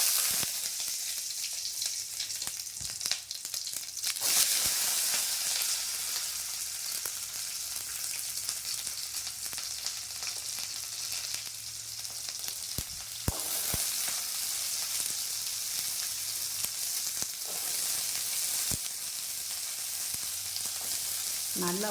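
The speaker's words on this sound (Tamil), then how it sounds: "இப்போ வந்து எண்ணெய் காஞ்சிருச்சு. இதில் வந்து சின்ன வெங்காயம் போட்டால் டேஸ்ட் இருக்கும்." Small onions sizzle and crackle steadily in hot oil alongside coconut and ginger, a continuous bright frying hiss with occasional sharper pops, close by and uninterrupted by voices.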